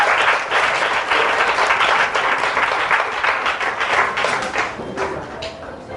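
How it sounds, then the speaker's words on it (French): Children applaud a singer at a church children's program, a loud dense burst of clapping that holds steady and then fades slightly toward the end. "Les enfants, on l'applaudit très fort."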